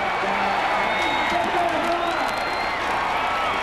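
A football stadium crowd roars with applause and cheering right after an Alabama touchdown. The sound is a steady, distant wash of noise from many voices with a few whoops.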